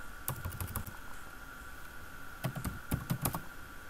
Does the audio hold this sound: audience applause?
no